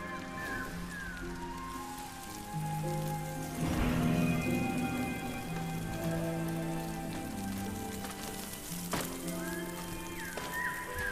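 Steady rain patters throughout the video game Sky: Children of the Light, a continuous hiss that swells midway, layered with soft melodic game music and occasional chime flourishes, no talking.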